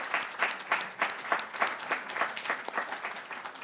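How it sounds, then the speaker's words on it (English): A modest audience claps for an event's organizing committee, a loose, rhythmic patter of individual hands at fairly close range, gently pulsing and fading slightly toward the end. "How about a little round of applause, please, for this organizing committee."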